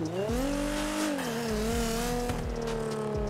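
Nissan GTR in GTA 5 screaming through its exhaust, engine pitch rising and falling across repeated gear changes, loud and continuous with no talk.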